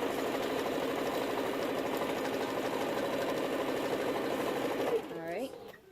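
A sewing machine runs steadily while stitching a glitter quilt at a quarter-inch seam, a continuous close mechanical whirr that stops near the end with a few scattered clicks.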